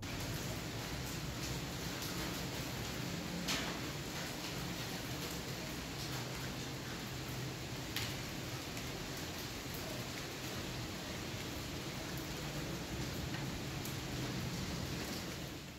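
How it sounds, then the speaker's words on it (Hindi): Rain falls outside during a sudden storm, a faint, even hiss of steady rainfall with no voices over it. "अब जो है ना एकदम बारिश भी शुरू हो गई है"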